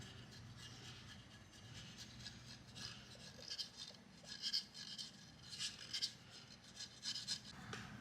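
Steady rasping and rubbing as old vinyl adhesive residue is wiped off a car's paint by hand, quiet strokes rising in intensity with repeated back-and-forth passes.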